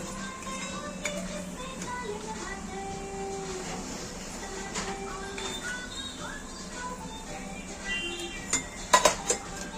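Sweet potato pieces stirred in ghee in a metal pot, a utensil scraping and clinking against the pot with a few sharper knocks near the end, steady kitchen clatter under faint background noise.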